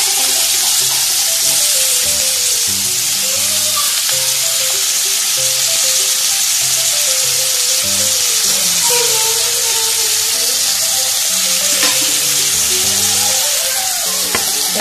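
Onion, tomato and green chilli fry in a pan with a loud, continuous sizzle that runs throughout, with occasional stirring scrapes and faint voices underneath.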